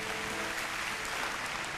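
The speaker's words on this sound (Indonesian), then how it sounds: "Kasih tepuk tangan untuk Tuhan Yesus yang percaya." Congregation applause during a sermon by Philip Mantofa, a continuous dense roar of clapping filling the whole short stretch at an even level.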